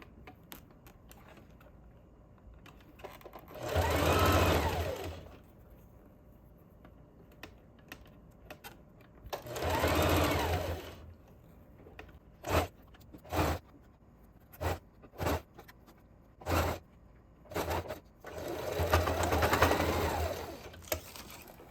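A sewing machine topstitches corset cups into a bustier in three sustained runs, with a string of short, quick stitching bursts between them and no talking.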